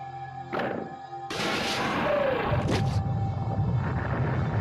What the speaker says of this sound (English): This elevator ride.